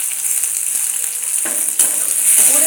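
Tomatoes hit a hot pan with a steady broadband sizzle, close and loud, with a few small clinks and scrapes as they settle into the oil; nobody speaks.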